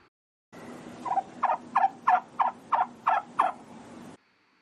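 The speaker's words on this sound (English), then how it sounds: "The male turkey is called a gobbler because of the noise that it makes." A male wild turkey gobbles in a quick run of about eight rattling pulses, loud and close, in one burst lasting a few seconds against an otherwise quiet background.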